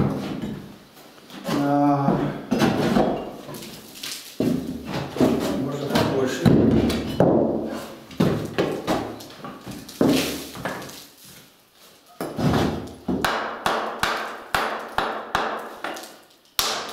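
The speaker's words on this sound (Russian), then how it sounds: "Ну, это обыкновенный молоток, хаммер." An ordinary hammer knocks repeatedly while a brick stove is cleaned out in a village house, with sharp thuds scattered through the clip and someone talking over much of it.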